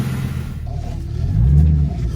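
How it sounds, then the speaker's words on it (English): A Mustang engine, recently patched after a heater hose blew off, is revved hard: a deep rumbling idle swells into a loud, rising roar near the end. "gave it a few revs, real hard revs"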